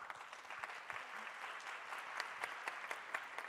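Applause from an audience at a Rio de Janeiro launch event for a women's map publication, a steady patter of many hands clapping with some distinct sharp claps, faint and distant throughout.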